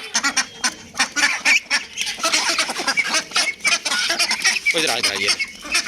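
Ducks and other fowl honk and quack repeatedly at close range, a dense, continuous flurry of calls with no clear talk.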